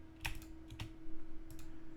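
Clicky computer keyboard typing in a quiet room, a few separate bursts of keystrokes over a steady low hum, close and fairly loud.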